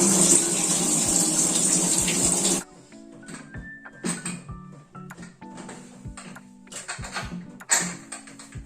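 Rice being washed under a running kitchen tap: a loud gush of water for the first few seconds, then quieter splashing, swishing and clinking in a pot or bowl.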